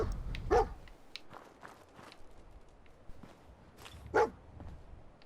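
A dog barks twice in a post-apocalyptic survival video game, sharp separate yaps standing out over soft footstep-like shuffling and quiet background noise.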